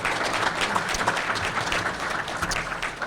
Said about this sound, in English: If we could give them a round of applause and express our appreciation to them.